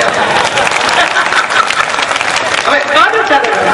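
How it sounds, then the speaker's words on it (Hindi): An audience at a heroic-poetry (veer ras) recitation breaks into loud, dense applause, a steady wall of clapping that carries on throughout, with voices mixed in. "जोरदार ताली बजा दे आप"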